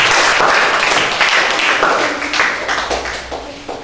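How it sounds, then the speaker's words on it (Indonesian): A classroom audience applauds a group's presentation during a teaching session, a dense burst of many hands clapping that starts loud and slowly thins out over a few seconds. "Beri tepuk tangan yang meriah untuk kelompok"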